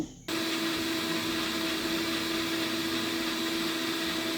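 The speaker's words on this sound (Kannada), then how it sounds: "ಫ್ರೈ ಮಾಡ್ಕೊಂಡಿರೋಂತಹ ತರಕಾರಿಗಳನ್ನು ಇವಾಗ ಗ್ರೈಂಡ್ ಮಾಡ್ಕೊಳ್ತಾ ಇದ್ದೀನಿ" A mixer grinder starts abruptly and runs with a loud, steady motor whine and grinding hum throughout, grinding fried vegetables.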